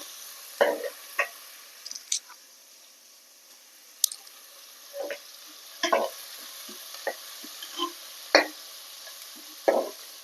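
Onions being sautéed in a large pan for hotel-style salna: faint soft sizzling under a series of short, close scrapes and stirs that come irregularly every second or so, with no talking.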